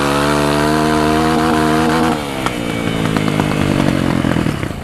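A motorcycle engine, its loose clutch cable keeping the bike from shifting gears, drones loudly at a steady high rev, then dips and picks back up into rougher, uneven revving close by.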